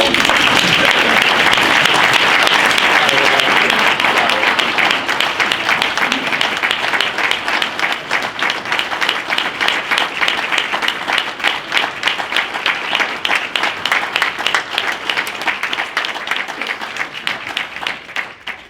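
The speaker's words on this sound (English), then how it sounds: "please applaud my wife." An audience at a board meeting applauds continuously for nearly twenty seconds, a loud dense wash of many hands clapping that gradually thins and fades toward the end, with no clear speech over it.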